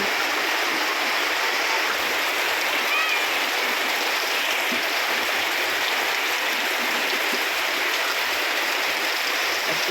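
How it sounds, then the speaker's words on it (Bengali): Heavy torrential downpour in Shariatpur, a dense, steady roar of rain that stays loud and unbroken throughout, with no pauses or other sounds standing out. "এত বৃষ্টি এত বৃষ্টি টানাস লাগাতার বৃষ্টি হয়ে যাচ্ছে মুসুলধারে অনেক বৃষ্টি"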